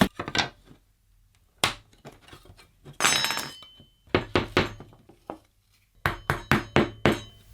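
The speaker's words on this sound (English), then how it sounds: "use a hammer and some nails to put together these frames" A hammer drives nails into wooden beehive frames in a series of close, sharp knocks, some single and others in quick runs, separated by short quiet gaps.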